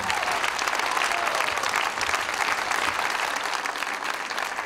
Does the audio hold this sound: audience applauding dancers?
yes